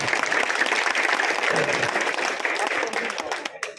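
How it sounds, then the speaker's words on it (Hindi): An audience at a mushaira poetry gathering bursts into dense, steady applause that carries throughout, with voices mixed in and a few scattered claps as it fades. "मुझे ताली बजाकर बताएं कि आप शेर सुनना चाहते हैं।"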